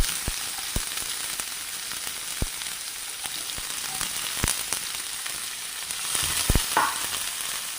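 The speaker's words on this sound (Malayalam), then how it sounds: "ഇനി നമുക്ക് നമ്മൾ അരിഞ്ഞു വെച്ചിരിക്കുന്ന സവോള കൂടെ ഇട്ട് കൊടുക്കാം" Chopped onion sizzles steadily in a hot pan for a potato and egg scramble, with a constant crackling hiss and a few sharp clicks of stirring near the end.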